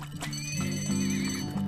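Horses neigh and whinny loudly in the oil-drilling video game Turmoil, with hoof clip-clop mixed in, a couple of drawn-out whinnies sounding alone and close.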